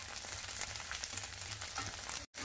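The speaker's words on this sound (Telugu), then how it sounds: "వేగాయండి మిరపకాయలు." Red chillies fry in oil in a pan for Andhra gongura pachadi, a soft, close, continuous crackling sizzle with a brief gap near the end.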